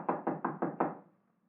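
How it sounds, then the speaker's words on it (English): Five firm knocks on a locked wooden door in an old house, evenly spaced and close, ringing briefly before fading into quiet. "let's try knocking."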